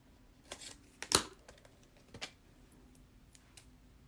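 Scissors cutting paper during card making, a few sharp close snips spaced irregularly, one louder cut standing out, with no speech.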